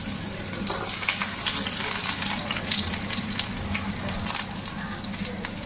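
Eggplant pieces fry in a wok of hot oil beside fish, giving a steady, close, dense sizzle and crackle with faint stirring scrapes throughout and no voices.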